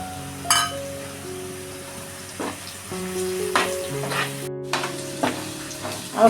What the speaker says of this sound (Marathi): मी मसाला चांगला परतून घेतलेला आहे